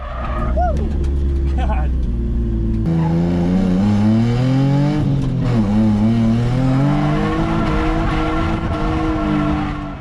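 A Nissan 350Z drifts on track, its engine revving hard in rising and falling sweeps while the tires squeal and skid through long slides, loud and close, with a voice briefly exclaiming.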